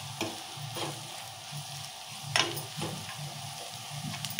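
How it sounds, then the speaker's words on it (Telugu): Okra curry frying in a pan is stirred after salt goes in, a steady low sizzle running under a few scraping strokes of the spoon, close and moderately loud with no talking. "మళ్ళీ ఒకసారి కలుపుకున్నాము"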